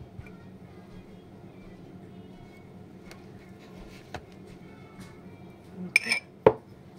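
Ice for an iced coffee clinking into a glass, a few light taps early on followed by a cluster of sharper clinks near the end over a low, quiet background hum.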